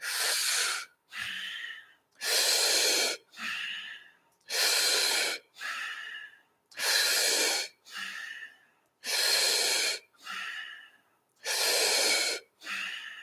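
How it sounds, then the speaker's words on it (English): A Wim Hof style breathing exercise in a yoga session: strong mouth inhales alternating with softer nose exhales in a steady rhythm, about six full cycles, close up with no talking. "Inhaling through the mouth, exhaling through the nose."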